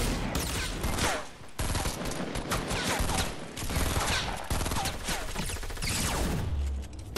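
Gunfire in a shooter video game: dense, sustained automatic fire with overlapping shots, loud and continuous for several seconds, and no voices.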